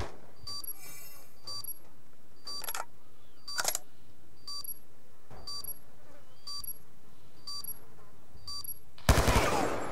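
Assault rifle fire in Call of Duty: Black Ops 2 on Xbox 360 comes as a few short bursts, the loudest near the end, over faint regular electronic chirps and quiet background game noise.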